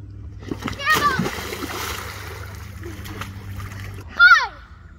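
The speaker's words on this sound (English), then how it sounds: "Medium cannonball coming up." A child's medium cannonball jump lands in lake water with a loud splash, while excited voices call out before and after the plunge.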